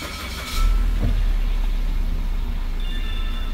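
A 2019 Suzuki Vitara engine cranks and fires up close by about half a second in, then settles into a steady low idle rumble for the rest of the clip.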